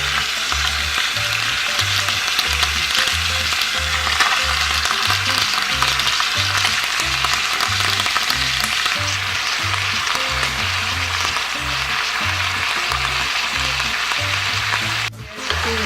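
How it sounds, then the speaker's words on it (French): Rinsed sauerkraut goes into a hot pot and sizzles steadily in a dense, continuous fry with a faint rhythmic pulsing underneath and a brief clatter near the end, close and loud, no talking. "J'ajoute la choucroute rincée. Alors on met déjà une première couche comme une paille."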